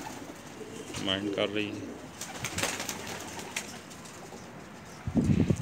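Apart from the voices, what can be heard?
red-eyed kamagar pigeon cooing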